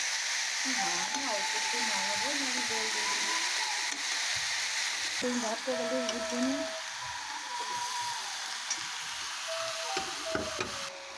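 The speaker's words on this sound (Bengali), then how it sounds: "মা সমস্ত মশলা দিয়ে কষিয়ে নিল" Spices are fried down in a pan for a Bengali fish curry with rohu and banana flower, making a soft, steady sizzle with occasional stirring under frequent conversation.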